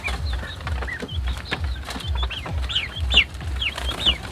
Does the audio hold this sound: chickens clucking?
yes